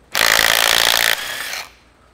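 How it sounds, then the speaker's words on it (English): A Makita power tool gun undoes nuts during removal of the cylinder head on a Massey Ferguson 65 tractor. A single loud, close burst of buzzing and rattling lasts about a second and a half, then cuts off, with no talking. "It's a great little gun, this little Makita."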